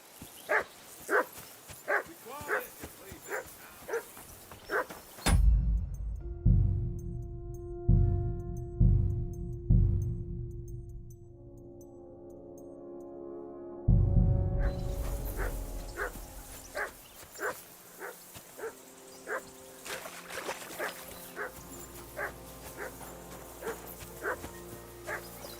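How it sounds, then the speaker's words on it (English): A dog in the game Peasant Simulator barks repeatedly at a steady pace, loud and close, with pauses between bursts and some other background sounds. "I assume you can hear that damn dog of yours barking"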